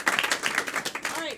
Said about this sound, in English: Clap for the players again.